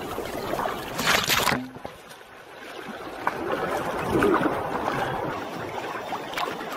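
Paddle strokes and water splashing around a fully loaded Feathercraft Wisper sea kayak heading out from Koh Phayam on the Andaman Sea off Thailand, near and steady with some wind noise and no talk.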